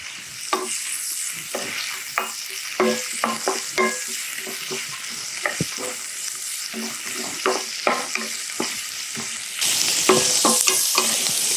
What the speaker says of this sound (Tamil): முட்டைக்கோஸ் சேர்த்த பிறகு ப்ரக்கோலி சேர்த்துக்கிறேன். இதெல்லாம் எண்ணெயில் ஃப்ரை ஆனால் போதுமானது.